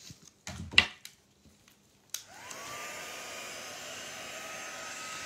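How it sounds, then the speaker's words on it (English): A heat gun blows alcohol ink across embossed paper, starting after a few soft taps and knocks and then running as a steady, even whoosh of airflow to the end. "Hitting it with the heat gun to blow it around again."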